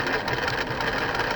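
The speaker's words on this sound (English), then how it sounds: "It's going to start. Takes it a second. There it goes. And we're going to watch it sew out." Computerized embroidery sewing machine stitching out a pattern, with a fast, steady mechanical whirr and rhythmic needle clatter, close and loud with no talk.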